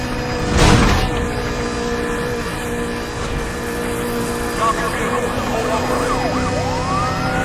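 Police sirens in the racing video game Need for Speed: The Run, wailing up and down over a steady car engine drone, with a loud whoosh early on and a voice talking over it.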